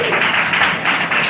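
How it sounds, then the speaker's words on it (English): An audience at an open mic comedy night applauds their host, a dense, close, steady wash of clapping that carries on without a break. "Give it up for your fabulously tall host"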